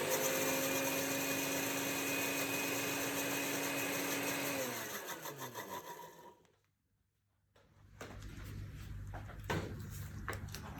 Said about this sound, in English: Then we will start the blender like for 15 seconds just to mix it.